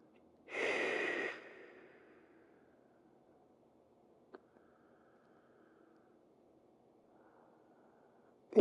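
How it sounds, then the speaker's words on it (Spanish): Deep breath drawn during a relaxation and stress-relief exercise routine, one long airy inhale close to the mic, followed by near silence with a faint tap. "respiración profunda"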